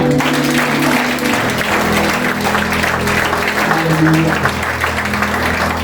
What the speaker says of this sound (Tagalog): Lahat po ng pinagpala ng Diyos ay pumalakpak.